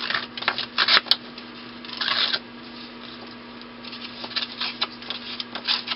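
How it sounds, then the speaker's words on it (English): Torn paper edges being smoothed with a cutting tool, producing short dry scraping and rasping strokes in quick clusters, fairly close and alone, with quieter gaps between bursts. "I'm going to kind of smooth them out a little bit by using this cutting tool"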